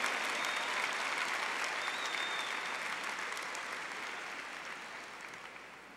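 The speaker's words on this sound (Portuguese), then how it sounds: "Pode aplaudir mais ainda." Sustained applause from a church congregation at a Catholic religious gathering, a dense wash of clapping that holds steady and slowly fades over several seconds, with no voices over it.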